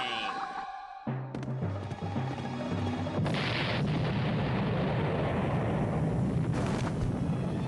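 A booming cartoon-style explosion from The Cramp Twins bursts out after a brief musical lead-in, followed by a loud, sustained rumbling roar with sharp crackles.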